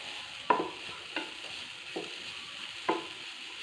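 Coconut and ginger frying in a pan, with a steady background sizzle and a few sharp stirring scrapes of a utensil at irregular intervals.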